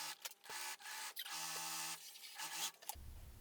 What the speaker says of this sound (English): I'm going to sew these layers together.